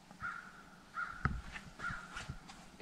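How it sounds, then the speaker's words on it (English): Crows caw repeatedly beside Lake Superior near Grand Portage, Minnesota, a few hoarse calls spaced across a quiet campsite backdrop, moderately distant. "Except for the crows, always the crows."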